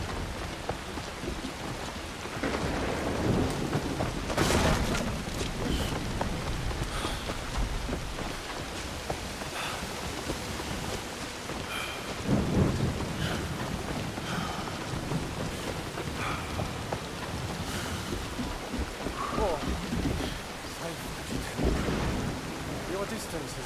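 Steady heavy rainfall with scattered thunder rumbles in the Assassin's Creed Shadows video game, set in ancient Japan. It is loud and continuous, with several swelling peaks and no voices.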